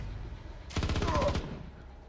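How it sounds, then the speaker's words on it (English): A short burst of rapid automatic gunfire in the video game Star Traders: Frontiers: a tight, rattling string of shots lasting under a second, loud and close, then fading out. "Shoot that guy."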